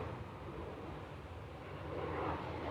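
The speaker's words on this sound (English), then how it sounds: "Big airplane going overhead." Big airplane passing overhead outdoors, a faint, distant broadband roar that swells slightly toward the end, with no voices.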